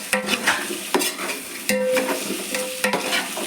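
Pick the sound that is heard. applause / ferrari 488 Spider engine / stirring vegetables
stirring vegetables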